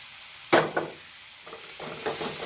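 Food for kothu chapathi frying and being stirred in a pan, with a sharp scrape and sizzle, a second fainter stir, then a steady soft crackle of oil close by.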